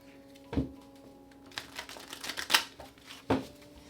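Tarot cards are shuffled in quiet surroundings: a few sharp riffling bursts and soft slaps spaced over a few seconds, close and fairly quiet.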